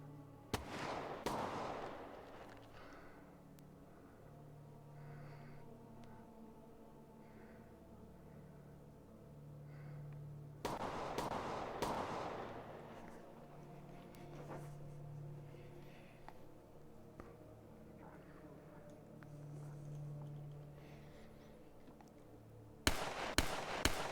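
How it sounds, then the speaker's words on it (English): A propane tank blows up in a shooter video game with a sharp booming blast, followed by a second loud burst about ten seconds later and a final crack at the end, over a low droning background. "you hear boom, as the propane tank hit and exploded"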